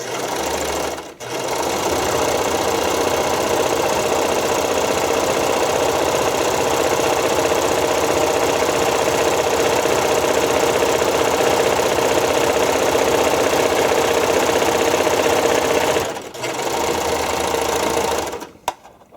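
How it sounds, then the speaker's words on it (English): A sewing machine stitches around the edge of a fabric bun cover, running in a loud, steady mechanical whir for most of the stretch, with brief pauses near the start and end. "So I'm just going to go ahead and sew around the outside."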